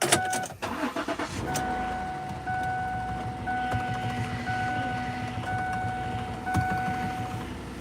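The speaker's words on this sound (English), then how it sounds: "I can start the car for you" A car's starter cranks in a few quick bursts before the engine catches and settles into a steady idle with a faint whine, accompanied by scattered clicks and clunks close by; nobody speaks.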